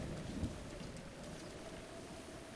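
Steady rain falls in the video game The Legend of Zelda: Breath of the Wild, a continuous hiss with a low rumble underneath, fairly faint and with no voices.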